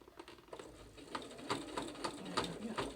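Sewing machine stitching a seam in dark fabric, a series of short, fairly close mechanical bursts in an uneven rhythm, pausing between runs of stitches.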